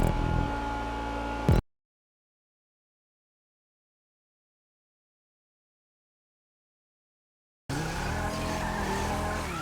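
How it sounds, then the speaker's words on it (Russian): Bravado Banshee 900R, a rear-wheel-drive car in a video game, roars loudly with engine revving and tire squeal in two bursts separated by a long stretch of silence. "Кстати, как вам звук мотора?"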